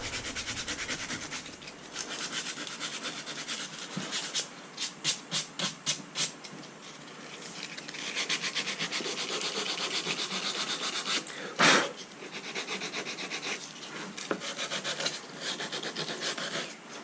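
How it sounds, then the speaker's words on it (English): Sandpaper folded and drawn along the edge of a crown moulding piece, a steady dry rasping rub with a burst of quick rhythmic back-and-forth strokes near the middle, close and fairly loud with no talking. "you can take this piece of sandpaper and just make a beautiful, crisp line all the way through here"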